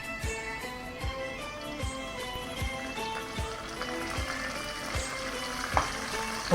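Crushed garlic, green chillies and curry leaves sizzle in hot tempering oil with a constant frying hiss, while regular scraping strokes of a spoon stir the pan close by.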